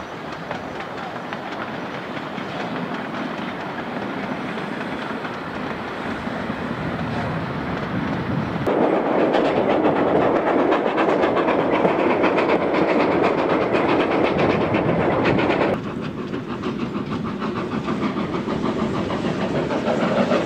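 Train on the Cumbres grade line out of Antonito, climbing a 4% grade with a steady, loud rumble and clatter of wheels and engine, growing louder midway, then easing slightly, alone throughout.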